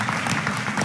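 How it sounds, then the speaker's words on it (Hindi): Brief, dense clapping from an audience at a Hindi poetry recital, a steady wash of applause at moderate loudness. "तालियां चाहूंगा"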